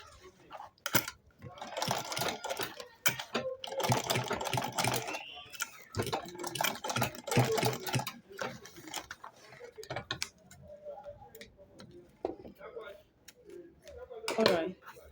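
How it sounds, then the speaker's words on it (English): A sewing machine top stitches a fabric clutch wallet, running in rapid, rattling bursts separated by brief pauses, close by and moderately loud, with quieter stretches between runs. "you top stitch it just the way it is. Top stitch it nicely"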